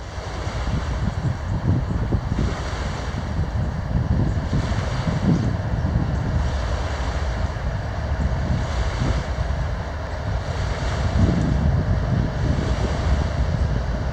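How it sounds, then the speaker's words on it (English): A CN freight train locomotive passing, a heavy low rumble with steady wind-like roar and rhythmic swells, continuous and fairly loud throughout. "I love the sound of the locomotive."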